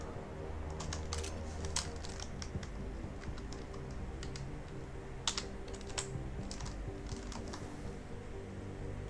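Someone types on a computer keyboard in a rapid, uneven patter of close, crisp key clicks. The keyboard had seemed unresponsive just before, and nobody speaks over the typing.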